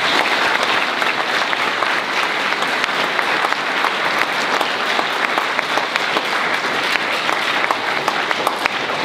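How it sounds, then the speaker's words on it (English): Sustained, loud applause from a large audience at a school speech day and junior awards ceremony, an even dense wall of clapping that holds steady throughout without talking. "Please give a round of applause."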